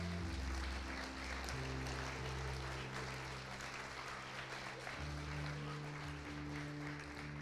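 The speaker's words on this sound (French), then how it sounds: "Je vais vous demander de l'applaudir" A church congregation claps steadily through the whole stretch, a dense, even patter of applause layered over sustained low keyboard or organ chords that shift pitch from time to time.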